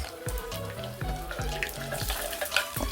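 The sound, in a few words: tempering frying in oil in a pan with mustard, cumin, garlic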